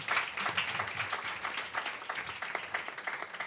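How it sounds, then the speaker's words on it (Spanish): Steady, dense crowd applause fills an event celebrating a women's footballer's Ballon d'Or win, many hands clapping at once without a break, fairly loud and close throughout. "Esto merece un aplauso también"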